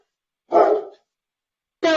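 A dog barks twice, loud and close, with a short gap between the two sharp barks in an otherwise silent room.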